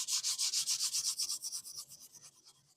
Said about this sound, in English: we're going to sand it, and let's hope we have no more low spots